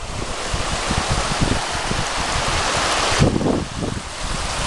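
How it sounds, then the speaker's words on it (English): A waterfall on Jsiple Road roars in a steady, loud, close rush of falling water, with no voices. "Great waterfall."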